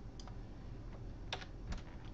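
A few soft computer keyboard shortcut presses while working with selection tools, with two sharper clicks standing out near the end over a steady low background hum.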